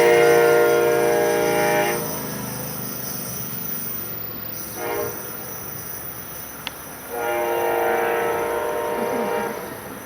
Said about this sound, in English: Three sleepers, diner, lounge, and just two coaches.